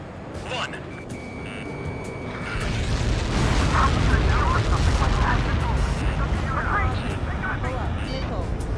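Missile impact in the combat flight game Ace Combat 7, a booming blast that swells into a loud rumbling roar over jet noise, with radio voices talking through it.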